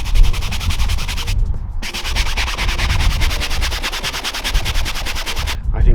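A brush scrubs a Porsche Boxster's soft-top roof soaked with cleaning liquid, making a loud, close, continuous rhythmic scratching with brief pauses between stroke runs.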